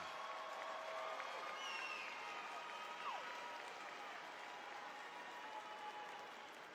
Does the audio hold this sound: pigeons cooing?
no